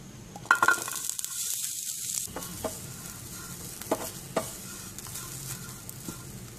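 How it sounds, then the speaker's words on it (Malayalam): Grated coconut, shallots and garlic roast in a pan, giving a steady soft sizzle with scattered stirring scrapes and clicks of a spoon against the pan. "ഇനി നമുക്ക് ഇതേ പാനിൽ തേങ്ങ ഒന്ന് വറുത്തെടുക്കാം തേങ്ങയും ചുവന്നുള്ളിയും വെളുത്തുള്ളിയും ചേർക്കാം"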